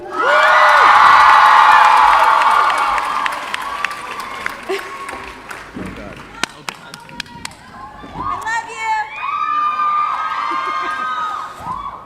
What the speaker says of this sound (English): no matter how loud you guys scream